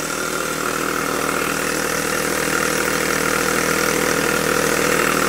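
A Jowitt poppet valve model steam engine runs steadily with a continuous, fairly loud mechanical chuffing and whirring, slightly wobbling on its flywheels and heard alone.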